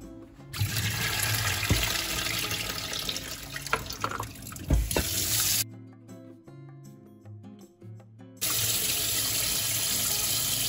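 Water poured out of a jar of young garlic being pickled in brine runs and splashes steadily into a sink, breaking off for a few seconds before the flow resumes, close and moderately loud over faint background music.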